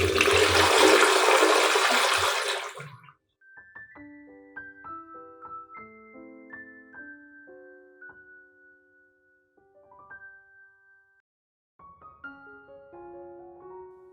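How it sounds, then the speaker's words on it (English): A household toilet flushes loudly for about three seconds in a close bathroom, a dense rushing burst that cuts off abruptly, followed by quiet tonal chimes with no talk. "Finally, flush the water and it is clean."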